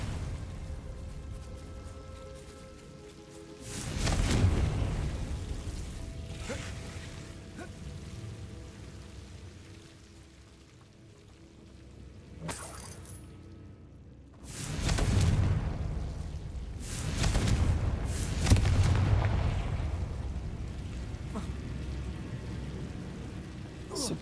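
Booming Confringo spell blasts in the fantasy video game Hogwarts Legacy, several broad explosive bursts with rumbling, crackling tails rising and fading over a low ambient bed, a player's voice briefly heard.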